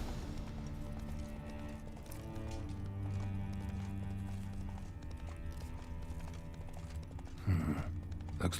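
Galloping horse hooves in The Witcher 3 game, a soft steady clip-clop rhythm under droning game music and ambience, with a louder burst near the end.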